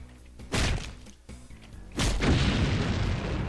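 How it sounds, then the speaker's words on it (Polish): In Doom with the Brutal Doom mod, a barrel blows up with a loud boom, and a second heavier blast follows, trailing off into a sustained rumbling roar. "Jak kopnę w tą beczkę, to ona wybuchnie."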